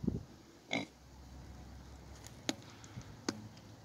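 A pig in a backyard farm pen moves around near its water, making a couple of soft grunts and snuffles, with sharp knocks and clatters of contact against objects.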